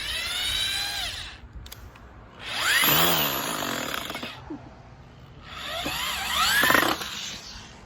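Power drill driving screws into scrap wood, with two long whining bursts of drilling separated by a quieter pause, close and fairly loud.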